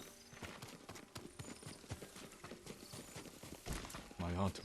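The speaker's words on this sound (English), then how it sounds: "The horses are freaking out for some reason." Horses in the Ghost of Tsushima video game clop their hooves in a steady, busy rhythm close by, with a short neigh near the end, while voices murmur underneath.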